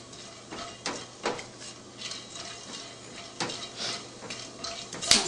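Whole cloves, peppercorns, bay leaves and green cardamom rattle and scrape in a pan as they dry-roast for garam masala, with a series of sharp metallic clinks and stirring taps at close range and no talking.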